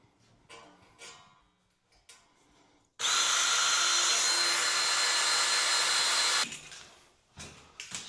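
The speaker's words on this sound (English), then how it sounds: "and then drill my holes." Power drill boring holes while a frameless shower door is installed, a loud steady whine lasting about three and a half seconds between quieter clicks and handling noises.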